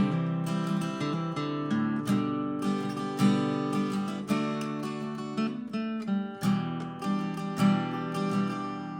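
An acoustic guitar plays strummed chords from a song with hammer-on embellishments between them, in a steady, moderately quiet rhythm played alone.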